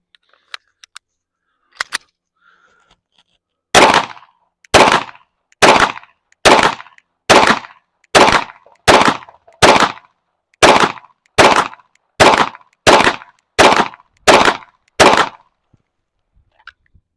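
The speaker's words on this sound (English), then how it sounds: "Next up, some Cellular and Balat 115 grain" Pistol gunfire from a Palmetto State Armory Micro Dagger loaded with 115 grain FMJ: a couple of faint early shots, then a steady string of about fifteen loud, evenly spaced reports, alone with no talk.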